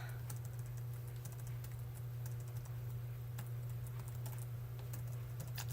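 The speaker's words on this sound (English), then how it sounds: "My typing skills are terrible." Fast, irregular clicking of computer keys under a steady low electrical hum, quiet and continuous with no voices.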